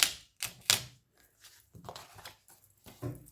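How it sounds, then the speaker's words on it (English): Two pages are ripped from a paper pad by hand at close range in a quiet room, several quick sharp tearing bursts followed by softer rustling. "going to rip 2 pages off here."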